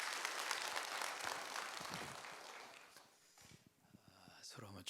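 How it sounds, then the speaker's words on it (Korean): A church congregation at a Wednesday service claps together, a dense broadband patter that fades out after about three seconds, followed by scattered shuffling and a brief voice near the end. "다시 한번 여러분 박수 한번 해주셔요."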